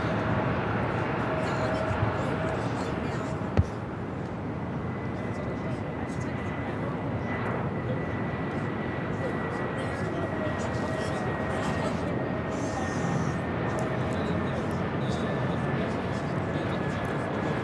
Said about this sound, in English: This arrival is Delta Airlines 2459 coming in from Portland on the A319.